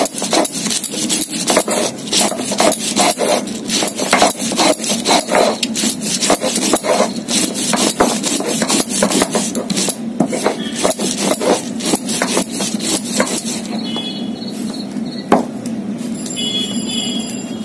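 Green chillies and ginger ground together on a grinding stone, a rapid rhythmic rubbing and scraping of stone on stone, close and steady, with a few sharper knocks toward the end.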